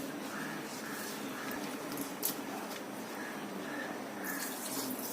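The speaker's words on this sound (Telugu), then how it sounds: "కొంచెం దీంట్లో నీళ్ళు పోసి ఇట్లా మనం కడుక్కోవాలి" Water pours and splashes steadily into a bowl of butterfly pea flowers as they are rinsed, with a soft continuous wash of sound and a few brief clinks near the middle.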